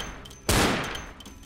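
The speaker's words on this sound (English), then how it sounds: "Was passiert, wenn ich auf den Feuerlöscher schieße?" A single sharp gunshot at a fire extinguisher in Vampire: The Masquerade - Bloodlines, loud and abrupt, then decaying over a faint background hum.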